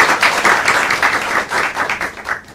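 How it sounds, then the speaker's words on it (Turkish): A group of hands clapping at a poolside dinner gathering, steady and fairly close, a dense patter of claps continuing for a couple of seconds with no voices. "ben alkışlıyorum güzelce."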